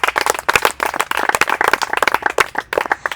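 Children in the Democratic Republic of the Congo applaud a classmate, a dense burst of many hands clapping close and loud for about three seconds, with no talk.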